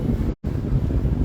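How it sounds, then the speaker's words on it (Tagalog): Sea waves at Boracay beach, a dense rushing wash of surf mixed with wind buffeting the microphone, broken by a brief dropout near the start. "Sa totoo lang, mas music pa sa akin yung alon ng dagat."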